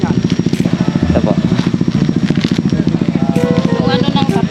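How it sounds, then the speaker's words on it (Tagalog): An unmuffled motorcycle engine chugs loudly and steadily nearby at a roadside checkpoint, its rapid pulsing exhaust running throughout while people talk over it. "ang ingay ng motor"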